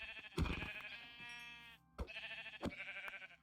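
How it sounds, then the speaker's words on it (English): Blocky video-game sheep in a Minecraft-style world bleat in a few short, bright calls over faint background music, with soft thumps between them. "Get over here, sheep."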